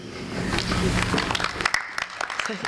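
Applause from a campus audience in a hall, broad steady clapping that tapers off with a few scattered claps at the end.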